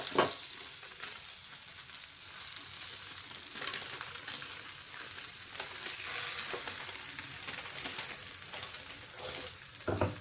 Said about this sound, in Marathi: आणि छान थालपीठ असं आपल्याला तव्यावर टाकून घ्यायचं